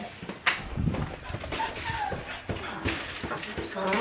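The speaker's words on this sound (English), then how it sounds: "the Tren dance, which is the dance my dog does whenever I come home" A pet dog whimpers and yips excitedly while hopping about, its high whines and scuffling steps close and fairly loud, with faint human voice sounds in the background.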